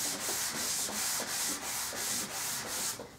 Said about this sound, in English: These are fine grade sanding blocks.